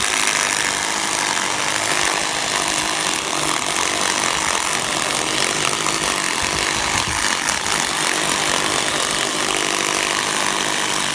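An electric mixer on slow speed beats cheesecake batter, a loud, dense, continuous whirring rattle that holds steady throughout without a break.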